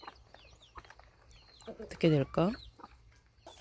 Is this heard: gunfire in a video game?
no